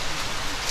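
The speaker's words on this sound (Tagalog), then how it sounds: "Ulan." Rain falls beside a large river, a dense steady hiss with no voices.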